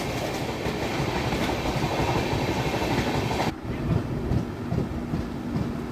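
Mumbai LTT Shalimar Express passenger train running along the rails, a loud continuous rumble with rhythmic clickety-clack of the wheels, the sound dulling abruptly midway as if passing into a different stretch.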